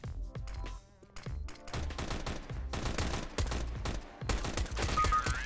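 Rapid bursts of gunfire from a CS:GO match, including a headshot, crack loudly one after another over busy in-game sound, with no talk.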